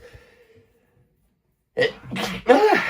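After a quiet stretch, a sharp close-up sneeze bursts out, followed by a second explosive sneeze.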